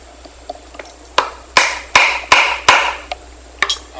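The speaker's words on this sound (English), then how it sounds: "I'll just whack a little place here that my key can get into." A hammer strikes a chisel cutting into wood to make a half mortise for a door lock, a series of sharp, close knocks in an uneven rhythm, some harder blows grouped in the middle.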